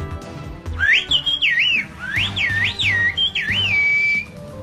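Turkish whistled language, or bird language, carries a single loud, piercing whistle that slides up and down in rapid, speech-like phrases, close by, with faint background sounds underneath and no talking.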